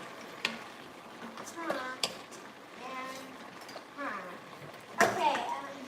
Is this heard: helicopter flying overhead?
no